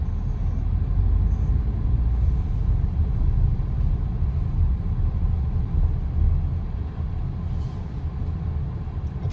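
Steady low engine rumble of a car running through a turn on a road, loud and continuous, easing slightly toward the end, with no talk.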